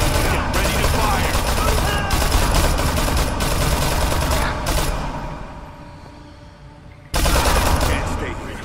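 Gunfire rattles in Dead Rising 3 as a dense, continuous fusillade of rapid shots. It runs loud for several seconds, thins out into a quieter stretch, then bursts back in full force near the end.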